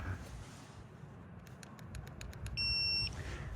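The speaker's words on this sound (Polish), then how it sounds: "Piknęło, znaczy, że tuning się uruchomił." A Segway ZT3 Pro electric scooter gives a rapid series of short electronic chirps followed by a sustained tone as its tuning mode activates, heard over steady traffic or street rumble.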